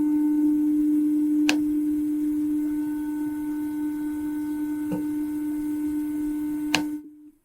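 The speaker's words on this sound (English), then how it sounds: "we've gone from being a pure sine wave to having all of these different harmonic content" A steady sine tone with 3% total harmonic distortion added, set at the limit tolerated for audiometric headphones. It sounds continuous and buzzy with layered harmonic overtones, and a few faint clicks break it before it cuts off abruptly near the end.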